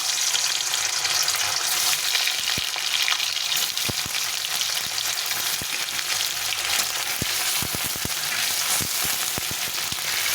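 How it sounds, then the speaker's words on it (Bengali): Paneer cubes frying lightly in hot oil, a continuous close sizzle with sharp clicks and taps from the spatula that come more often toward the end, with no voices. "তেলটা বেশ গরম হয়ে গেছে, পনিরগুলো একটু ভেজে নেব, হালকা করে ভেজে নেব"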